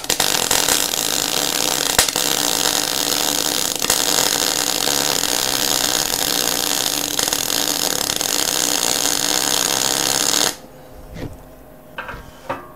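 A MIG welder spits and pops while welding, making a loud, continuous harsh crackling hiss with sharp pops scattered through it, cutting off abruptly and leaving faint scattered clicks and quiet.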